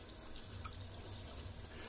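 A bathroom tap keeps running during shaving, a soft, steady trickle of water with faint drips, quiet and close.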